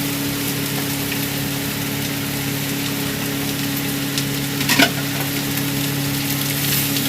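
Potato, onion and carrot fry in a pan and are stirred, making a steady close sizzle with brief scraping clatter of the stirring near the middle.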